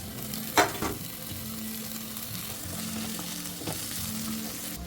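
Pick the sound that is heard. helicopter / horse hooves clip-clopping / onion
onion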